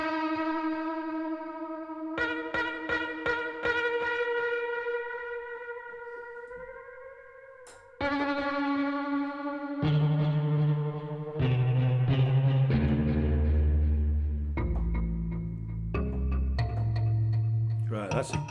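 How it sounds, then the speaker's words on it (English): Plucked guitar and kalimba notes from an MPC sound library ring out through stereo delay, chorus, tape and hall reverb, each pluck trailing repeating echoes before a deeper, fuller phrase takes over. "we have got guitar 2 and kalimba, and quite a lot of delay"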